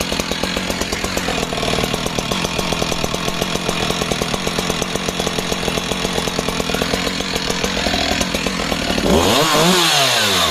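A Husqvarna 372 XP X-Torq 70cc chainsaw running loud and close, its engine holding a steady buzzing drone, then revving hard near the end as it cuts.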